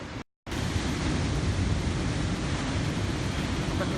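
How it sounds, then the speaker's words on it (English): Ocean waves washing onto a beach make a continuous loud rush of surf with wind noise on the microphone, briefly cut out near the start and then steady to the end, with no talking. "Hopefully you can hear me alright with the sound of the waves here."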